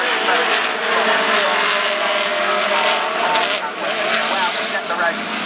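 GT3 race cars, including a BMW Z4 and an Audi R8, roar off at the start of a race, a loud, dense blend of engines blaring and revving together, with a commentator talking over it.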